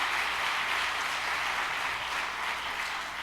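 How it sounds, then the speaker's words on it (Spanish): A church congregation claps steadily and loudly, a dense continuous wash of applause with no voices rising above it. "Dele fuertes palmas al que vive."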